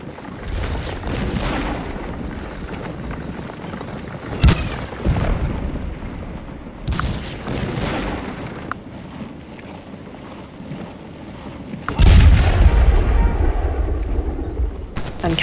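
Artillery shelling in a Gettysburg Civil War video game, deep booms and rumbling blasts rolling in at irregular intervals, some distant and some heavy and close, with one loud burst near the end.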